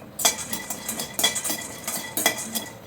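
Peanuts and sesame being dry-roasted in a kadai, with a spoon scraping and clinking against the metal in repeated bursts of stirring, close and moderately loud.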